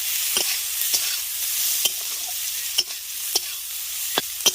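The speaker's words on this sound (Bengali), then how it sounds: "পেঁয়াজটা দিয়ে আগে একটু পেঁয়াজ আর ইচ্ছেটাকে ভেজে নেবো" Onion and bitter gourd frying in hot oil, a soft constant hiss broken by regular spatula taps and scrapes against the pan.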